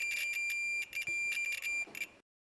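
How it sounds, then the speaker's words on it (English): A continuity tester beeps steadily when touched to a white wire on a plug, giving a close, thin electronic tone in repeated pulses that stop abruptly after about two seconds. "The white wire provides a constant beep."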